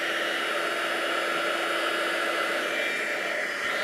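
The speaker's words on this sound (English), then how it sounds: "So I'm just going to warm my heat tool up" A craft heat embossing tool warming up, giving a steady, loud hair-dryer-like blowing roar that holds constant and runs alone without any voices.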